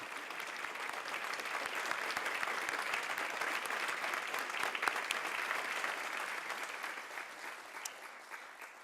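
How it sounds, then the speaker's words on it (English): Audience applause for arts project award recipients at an Alaska foundation's individual artist awards ceremony, a dense, even wash of clapping that holds steady throughout with a few sharper claps. "let's please give an applause to our Project Award recipients"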